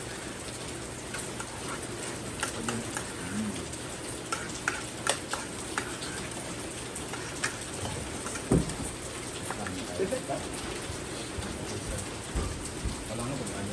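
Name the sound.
heavy rain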